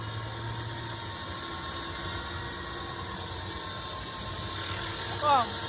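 A Trex 450 radio-controlled helicopter runs at an outdoor field, its electric motor whining steadily with a constant high rotor drone and a short rising squeal near the end.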